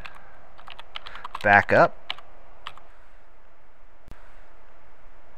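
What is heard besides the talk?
typing a folder name on a computer keyboard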